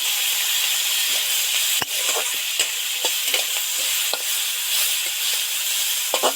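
Cumin, coriander and chilies fry in hot oil for a village-style telakochu greens dish, a bright continuous sizzle punctuated by repeated scraping stirs of a spoon against the pan.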